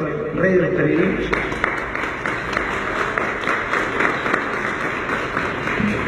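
Applause rises from a gathering in Ayabaca, Piura, a continuous crowd clapping mixed with voices and chatter, fairly loud and sustained with talk running underneath.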